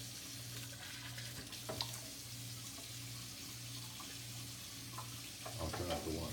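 Water runs steadily from a kitchen tap while coffee grounds are rinsed, a continuous wash with a low hum and a few small clinks on top, no talking.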